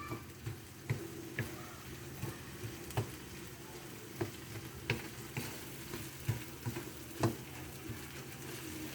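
Mushroom sisig with egg frying in a pan while being stirred, a steady close sizzle punctuated by frequent sharp scrapes and clicks of the utensil against the pan, no voices.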